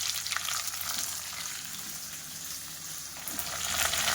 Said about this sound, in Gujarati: આપણે આ ગુવારને એડ કરી દઈશું અને પાછું મિક્સ કરી લેવું